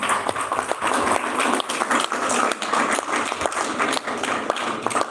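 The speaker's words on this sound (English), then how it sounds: "So we must clap for him." Audience applause at a veterinary medicine event, a lively spell of many hands clapping with uneven bursts, moderately loud and steady for about five seconds.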